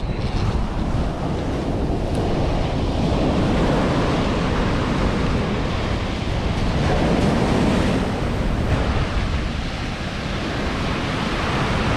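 Ocean surf breaks continuously on a beach where people are fishing, a dense steady roar of waves mixed with heavy wind buffeting the microphone, with no voices.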